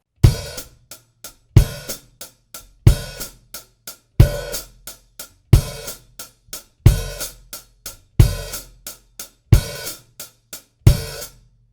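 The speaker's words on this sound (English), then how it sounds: "Sometimes you're going to want to play the open hi-hat note on the downbeat." A drum kit lesson groove with the bass drum and an open hi-hat on each downbeat, repeating in an even, steady pattern of strong hits with lighter hi-hat strokes between, loud and close, no voice.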